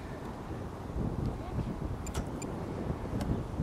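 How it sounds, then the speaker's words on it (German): Wind buffets the microphone steadily at an outdoor model airfield, a constant low rumble with a few faint clicks on top. "Bisschen windig ist es."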